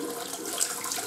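Cold water runs steadily from a tap during a wet-shave routine, a brief, even hiss of flowing water close by.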